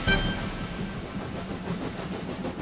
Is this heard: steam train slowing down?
yes